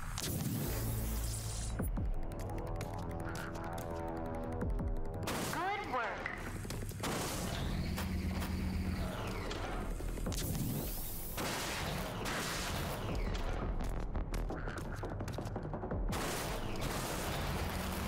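Rage 2 laser beam weapon firing a continuous beam, loud and sustained with whooshing, crackling bursts over a busy combat mix, while someone talks over it.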